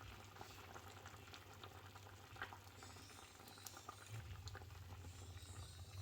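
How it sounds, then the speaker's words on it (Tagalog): A pot of sinigang soup boils steadily up close in a home kitchen, with a constant rolling bubble and hiss and occasional louder pops. "kumukulo na siya"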